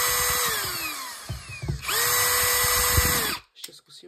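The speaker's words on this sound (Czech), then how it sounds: "teď si zašroubujeme tenhle vrut" A Parkside PABSP 20-Li cordless drill driver drives a screw in two close, loud runs. Its whine rises and falls with speed, then cuts off, followed by a few light clicks.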